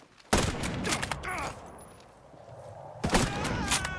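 Sniper rifle fire in Ghost Recon Breakpoint, unsuppressed: a few sharp, loud cracks with ringing tails, spaced about a second or more apart, the first and last hitting hardest amid other game noise.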